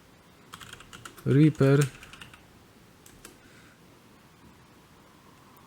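A computer keyboard clicks in light scattered taps while someone types into a browser, faint and sparse, with a voice speaking briefly over the typing.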